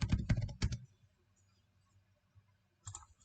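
Typing on a computer keyboard comes as a quick close burst of several clicking keystrokes, then near silence, then a short second cluster of key taps at the end.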